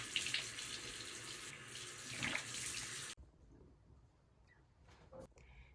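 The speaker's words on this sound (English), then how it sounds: "go to the bathroom and wash my face" Tap water gushes loudly from a bathroom faucet into the sink while a face is washed for about three seconds. The water then shuts off, leaving faint handling noises and small splashes.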